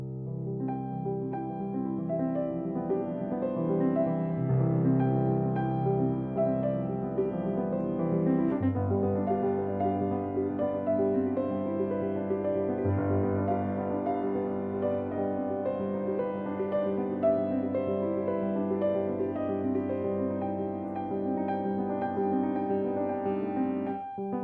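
Piano played with the sustain pedal held halfway down, an 1898 Pleyel, sounding as a steady stream of blended, slightly smeared sustained notes over a low register, moderately soft and alone with no voices.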